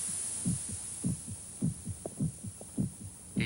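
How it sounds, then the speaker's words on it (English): A human heart thumps against the ribs in a steady low pulse, paired beats repeating about once a second, close and muffled over a faint background hum. "The sound of the heart pounding against the ribs."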